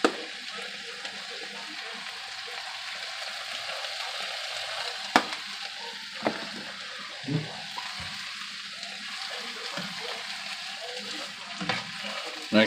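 A stir fry with pepper and Italian seasoning sizzles steadily in a pan, a continuous frying hiss broken by a few scrapes and clanks of stirring, with faint voices now and then.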